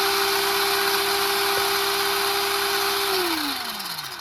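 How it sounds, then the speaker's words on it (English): The brushless motor of a Traxxas RC car, flipped over on its back, whines at a steady high pitch for about three seconds, then spins down with a falling tone as it coasts to a stop. "Maintain speed for a long time with the brushless motor."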